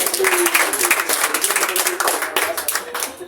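A church congregation claps together during a service, a dense, steady wash of applause from many hands that fills the room and carries on throughout, with voices faintly mixed in.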